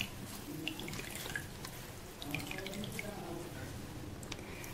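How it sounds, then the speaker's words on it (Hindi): Water squeezed by hand from freshly rinsed chhena cheese wrapped in cloth, a steady running, trickling patter like a tap draining into a sink, continuous and moderately close. "अब इस तरह से इसे धीरे धीरे निचोड़नी है।"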